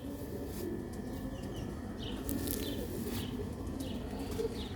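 Pigeons coo steadily at close range in a loft of Sialkoti pigeons and quail, with faint chirps from other birds mixed into a continuous, gently murmuring bird chorus.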